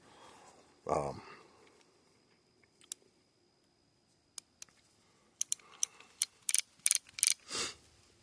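Revolver cylinder with a Buffalo nickel bison motif, on a Heritage single-action with engraved wooden scroll grips and a 4 3/4 inch barrel, turned by hand, giving a run of sharp mechanical clicks in quick succession close up after brief talk.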